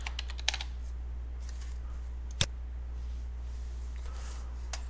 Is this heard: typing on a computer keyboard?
yes